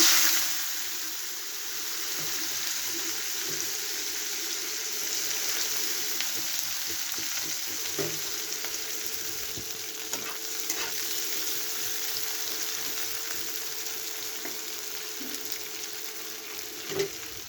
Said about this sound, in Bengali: এবার দিয়ে দিচ্ছি পেঁয়াজ কুচানো।